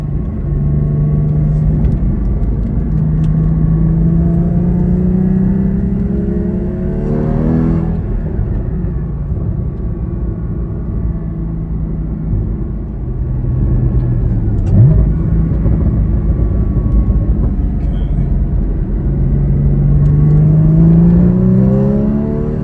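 A Porsche Cayman 981 with a modified intake revs on a race track, its engine note rising and falling through several long pulls and gear changes, loud and steady throughout with no talking.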